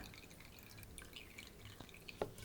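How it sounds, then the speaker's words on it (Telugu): Faint, sparse drips of coconut milk falling through a soft cotton cloth strainer, a few small irregular plinks over a quiet background. "ఈ కొబ్బరిని ఒక మెత్తటి కాటన్ క్లాత్లో కానీ లేకపోతే ఇలాగ జాలీలో కానీ వేసి వడబోయాలండి."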